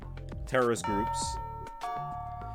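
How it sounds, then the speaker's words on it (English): A school bell chimes in a classroom in Fate/Extra, signaling the end of classes with sustained ringing tones after a burst of other sound, moderately loud. "the bell signaling the end of classes sounds"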